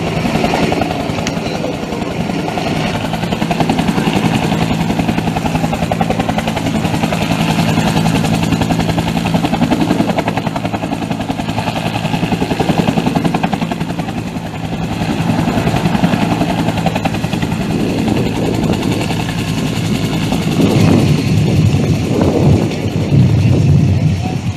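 A military helicopter hovers during a task force activation exercise, its heavy, continuous rotor and engine roar loud and unbroken throughout, with faint crowd or loudspeaker sounds underneath.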